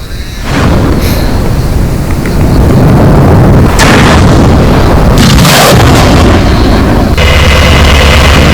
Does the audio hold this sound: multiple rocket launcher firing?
yes